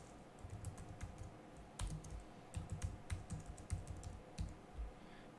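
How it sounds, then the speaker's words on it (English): Typing on a computer keyboard while entering shop details into a form: quick, irregular clusters of close, crisp key clicks with short pauses between bursts. "I'm just gonna type VIP Shop Management, and type in the street."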